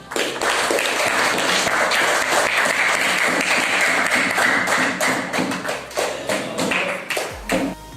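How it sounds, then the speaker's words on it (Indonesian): A classroom group claps for a presenting team at the end of their presentation, a dense burst of hand claps that holds steady for several seconds before thinning into scattered claps and a thump at the close. "Silakan diberi tepuk tangan."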